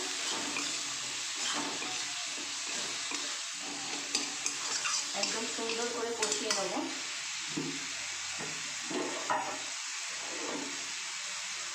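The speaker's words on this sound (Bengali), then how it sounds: "এবার সব মিক্স করে নেবো ভালো করে মশলার সঙ্গে কষিয়ে নেবো" Cabbage with green chillies, salt and spices fries in a pan, a constant loud sizzle with repeated scraping stirs and bursts of bubbling, and a voice talking faintly at times.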